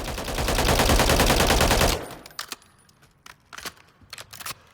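A sustained, rapid burst of automatic fire from an H&K G36C rifle in Call of Duty Modern Warfare III rattles loudly for about two seconds, then gives way to scattered metallic clinks and light clicks.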